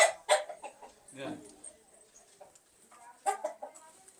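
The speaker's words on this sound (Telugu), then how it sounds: "ఇది ఒక కోడి" A chicken clucks in short, scattered bursts, close by, with quiet gaps between calls and some low background voices.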